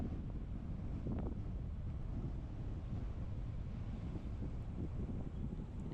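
Steady wind buffeting a cyclist's microphone during a road race, a continuous low roaring rumble that never lets up, with no voices.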